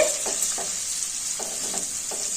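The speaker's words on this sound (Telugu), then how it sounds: "రవ్వ వేసి వేయించుకోవాలండి. వేయించుకోవాలి ఉల్లిగడ్డలు." Semolina and onions are stirred in a hot pan for upma, a continuous bright sizzle with a few soft scraping strokes of the spoon.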